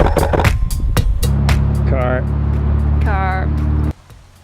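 A car driving past on a road, its engine rising to a steady loud hum before cutting off sharply near the end, with people talking over the start and a couple of short sounds during it.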